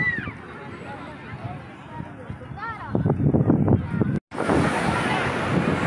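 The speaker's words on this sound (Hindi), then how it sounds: "ये देखिए लहरें जोर जोर से लहरें आ रही है" Sea waves surge and crash onto Somnath beach on a crowded evening at sunset, a continuous rushing roar mixed with wind buffeting the microphone, while someone talks over it.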